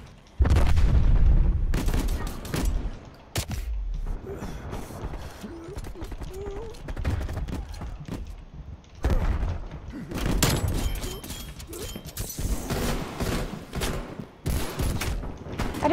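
Repeated gunfire from a picked-up gun in a Call of Duty Cold War multiplayer match, with Street Sweeper shotgun blasts; loud bursts of shots and booms recur throughout, with gaps of quieter game ambience between them.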